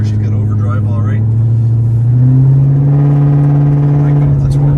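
A used police car drives along with a steady, loud engine drone that rises slightly in pitch as it shifts gear, its uneven misfire buried in the hum; people talk over it.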